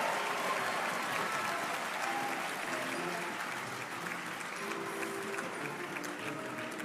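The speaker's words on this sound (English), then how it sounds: "I think he didn't hear your applause the first time." Sustained audience applause fills a hall at a university vice-chancellor's investiture ceremony, a steady dense wash of clapping from start to finish with no talk over it.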